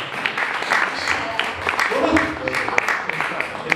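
Applause from a seated audience at an indoor book presentation in a Naples café, steady dense clapping throughout with a murmur of voices beneath.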